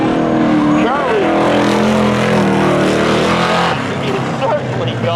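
A 1985 Chevy Blazer launches off the start-finish line at a spectator drag race on a speedway, engine roaring loud and steady with rising pitch and brief tire squeal while a commentator talks over it.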